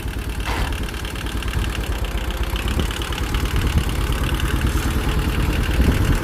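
A Kubota L2600 tractor with a 26-horsepower four-cylinder engine idles steadily, its gearbox and rear end running with it in a dense, even mechanical chatter at close range and no voices.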